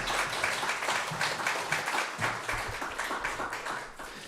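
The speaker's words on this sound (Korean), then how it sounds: "박수로 함께 목사님 초대하겠습니다" A church congregation applauds to welcome a pastor to the pulpit before a sermon, a steady wash of many hands clapping at moderate volume for several seconds, with no voices over it.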